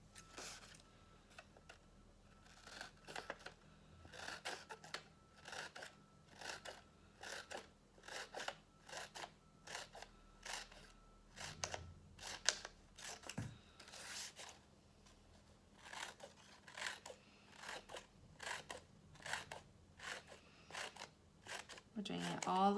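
Scissors make small, tiny snips along one side of a sheet of paper for a spring art project, a long run of quick, crisp cuts in a steady rhythm, close and fairly quiet.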